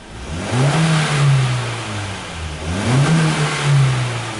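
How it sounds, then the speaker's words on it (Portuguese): A 2010 Honda Fit with low power and several faults, its engine revving twice as the throttle is pressed, pitch rising and falling in two loud close swells. "Aí aqui a gente acelera, ó."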